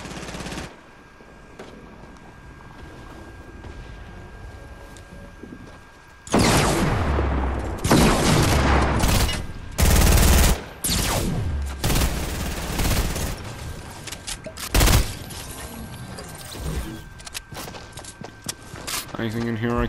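Gunfire in the video game Fortnite, with loud bursts of rapid shots and booms after a quieter opening, mixed with footsteps and a person talking over the action.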